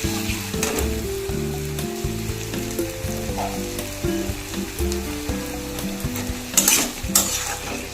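Shrimp shell paste with spices being stir-fried, a continuous close sizzle under repeated scraping and clanking of a spatula against the pan, with a louder clatter near the end.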